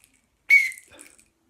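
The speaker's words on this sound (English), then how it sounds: "nice whistle." Emergency whistle from a first aid kit gives a single short, shrill blast that tails off quickly, set against near silence.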